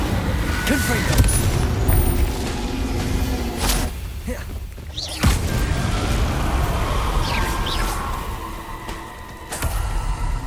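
The Confringo blasting curse explodes in Hogwarts Legacy, a dense roaring burst of crackling impacts and rumbling booms layered over busy combat effects, loud and continuous with a brief dip midway.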